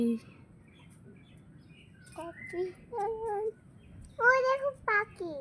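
A bird calls in a quiet indoor setting, giving a few clear, pitched chirps and warbling notes in short bursts, close and fairly loud against a faint background hum.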